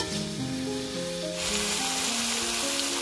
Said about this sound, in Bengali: সবকিছু ভালোভাবে ভেজে নিচ্ছি